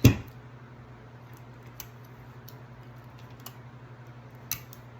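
Masking tape pulled and snipped while wrapping a sublimation tumbler, with a few short sharp clicks and tears spread across a steady low fan hum.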